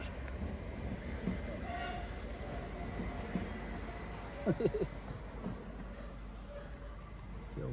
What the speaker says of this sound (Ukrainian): Коротше, люди їдуть поїздом